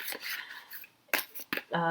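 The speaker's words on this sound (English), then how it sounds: "So I'm shuffling the cards" Tarot cards being shuffled give a few short, crisp papery bursts, close and fairly loud, separated by quiet gaps, with a voice starting at the end.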